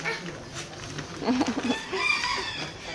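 At a farm shop, chickens call: a rooster crows in short harmonic bursts while hens cluck nearby. Faint voices can be heard in the background.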